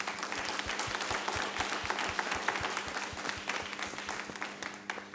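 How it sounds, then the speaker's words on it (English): Audience at an impact breakfast event applauding the panel, steady dense clapping from a moderate-sized crowd, fairly even throughout with no talk over it. "Join me in giving them a round of applause"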